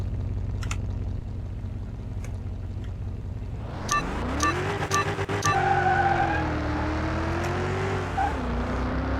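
Car engine in the Car Mechanic 2021 video game: a steady low hum, then revving with rising pitch and skid-like tones before the car drives away, the sound fading off.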